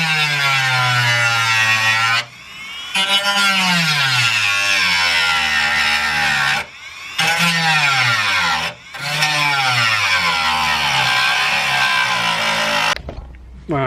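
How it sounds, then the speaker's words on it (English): A high-speed Dremel rotary tool grinds against metal on a VW Golf Mk2 in long loud bursts, its whine dipping and rising with pressure, stopping briefly between passes. "So yeah, bit of Dremeling next."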